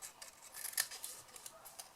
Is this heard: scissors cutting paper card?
yes